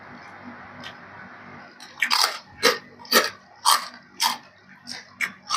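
Crispy fried pork cracklings bitten and crunched close up, a run of about eight sharp, loud crunches in quick succession after a quiet opening, with no talking.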